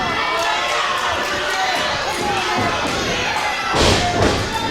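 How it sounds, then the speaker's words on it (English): A clothesline strike lands during a tag team pro wrestling match, a brief heavy thud rising out of steady crowd noise and cheering near the end, with commentary talk running over the arena din. "exploding out of the corner with the clothesline"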